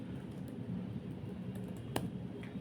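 Someone typing a command on a computer keyboard, a soft scatter of key presses with one sharper tap near the middle, quiet and close over a low background hum.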